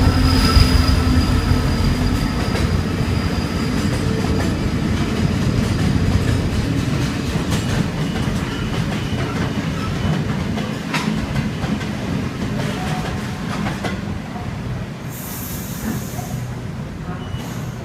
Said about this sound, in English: And about to pass platform number 1, we have some freight.